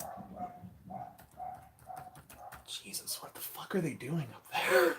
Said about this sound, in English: Sorry if you hear the dogs barking.